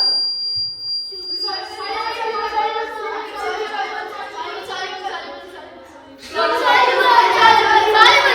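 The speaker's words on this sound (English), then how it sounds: "This triggers a buzzer when noise is high" A shrill, steady electronic beep from a classroom noise-level buzzer sounds briefly at the start, then a room full of children's chatter rises and grows louder.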